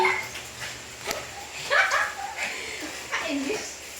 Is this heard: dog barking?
yes